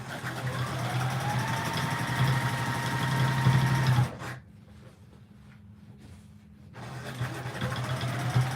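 A Juki sewing machine doing free motion quilting hums and chatters loudly and close for about four seconds, stops abruptly into near silence with faint handling noise, then starts running again.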